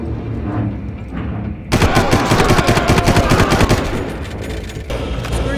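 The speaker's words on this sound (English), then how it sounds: "now let's go shoot those guys" Gunfire in the Far Cry video game: a sudden, loud stream of rapid automatic shots bursts in and rattles on steadily for several seconds, with a brief lull before more firing.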